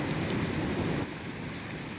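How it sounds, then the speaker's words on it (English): Steady rain pours as a dense, even hiss in the video game Tales of Berseria, heavy at first and then a bit lighter, with no voices. "Oh, it's raining."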